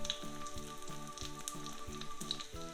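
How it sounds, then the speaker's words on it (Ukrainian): Oyster mushrooms sizzle and crackle steadily in oil in a pan over medium heat, with a repeating tonal music pattern playing alongside. "На середньому вогні будемо смажити спочатку з однієї сторони, а потім з іншої."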